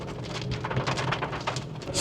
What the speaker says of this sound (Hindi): थोड़े से ये एरिए में ही बारिश दिखाई दी है